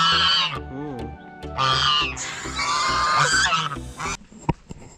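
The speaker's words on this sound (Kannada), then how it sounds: "ಡಕ್ಕು" A duck calls out near a temple site in Hassan, giving a run of loud, nasal honking quacks in uneven bursts, then falling quieter with a few sharp clicks.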